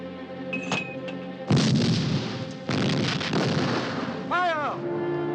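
Artillery fires in a 1969 war film battle scene at El Alamein, with two heavy booming blasts followed by long rumbling tails, loud and close, and a shouted voice and whistling shell sounds between them.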